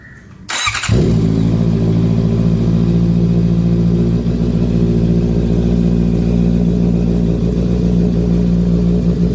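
A Bajaj Dominar 400 single-cylinder motorcycle engine catches after a brief start and settles into a steady, loud, close idle that holds unbroken to the end.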